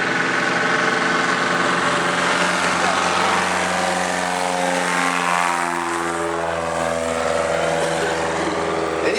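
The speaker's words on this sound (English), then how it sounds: "88 Zulu's going to go ahead and fire up that engine again." A small plane's propeller engine starts and runs steadily at close range through a cold Alaskan winter setting, its low harmonic drone shifting pitch slightly as it settles, with faint background noise throughout.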